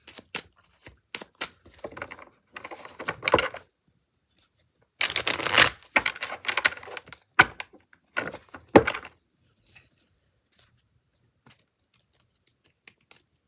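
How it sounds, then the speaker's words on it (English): A tarot deck being shuffled by hand, in bursts of crisp riffling and card-slapping separated by pauses, close and clear, with a longer quiet tail of faint taps at the end. "I like to shuffle on camera."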